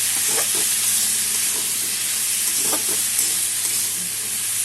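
Vegetables fry steadily in a pan for a Bengali fish-head chorchori, a continuous close sizzle and hiss with a few scraping stirs of a spatula breaking through.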